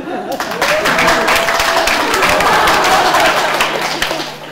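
A crowd at a Korean talk-show stage event breaks into loud, sustained applause, dense clapping with some cheering voices mixed in, holding steady before easing slightly at the end.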